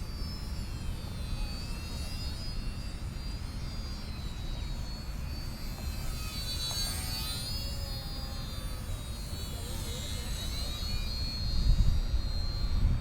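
Small airplane engine during landing practice, flying low with power nearly cut, a steady droning hum heard continuously from a distance beneath wind noise.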